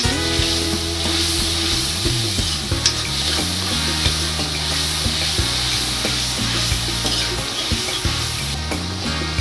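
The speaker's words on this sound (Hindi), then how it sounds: "मसाला डाल के मसाले को अच्छे से भूनना है।" Masala spices fry and sizzle in oil for an aloo matar sabzi while a spoon stirs them. A steady, close hiss carries scraping stirring strokes, with a tonal hum running underneath throughout.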